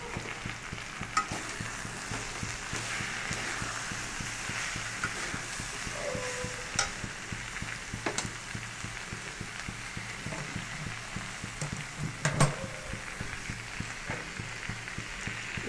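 Prawns sizzle steadily in a hot pan while being stirred, with a continuous frying hiss and repeated scraping strokes of a spoon, close and even throughout.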